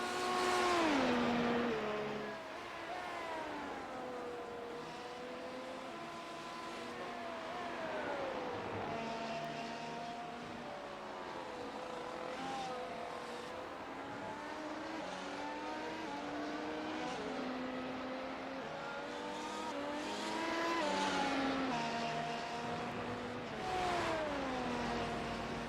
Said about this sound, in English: Here's Kruger in your screen, the number 70 car for Gear Cats.